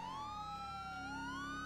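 Police siren in GTA 5 wailing loudly and continuously, its pitch sliding slowly up and down with a steady engine rumble beneath, no talk over it.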